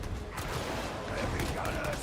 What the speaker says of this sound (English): Get that elevator moving.